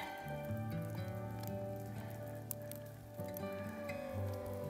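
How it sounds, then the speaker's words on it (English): Steady rain patters and hisses throughout during a winter mountain hike, close and continuous, over a low tonal drone that runs under it. "All right, so it's definitely raining."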